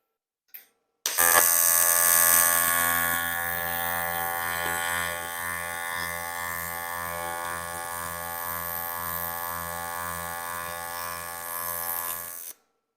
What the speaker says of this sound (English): We have it set up for AC TIG with the foot pedal at 160 amps